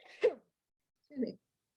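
A single short sneeze up close, followed by a brief quieter vocal sound after a pause.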